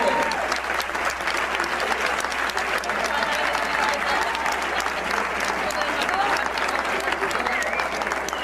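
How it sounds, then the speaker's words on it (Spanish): Loud, sustained applause from an audience fills the whole stretch, steady and dense without letting up, with some voices mixed in among the clapping. "Ahora sí, un aplauso muy fuerte."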